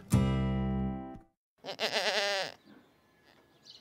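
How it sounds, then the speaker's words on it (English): Male goat bleating loudly and close: one long, even, nasal call, a short pause, then a second wavering bleat, with quiet afterward. "Male goat, a buck or a billy."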